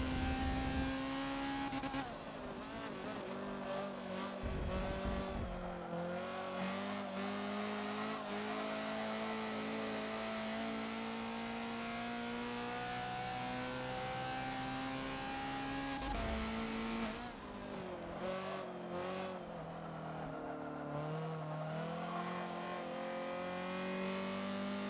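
Bugatti race car engine in the Forza video game at night on the Le Mans track, revving hard under throttle with rising and falling pitch through gear changes, a brief lift-off, and faint tire squeal, loud and close throughout.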